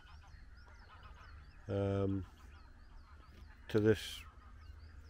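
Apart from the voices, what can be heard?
geese honking by a reservoir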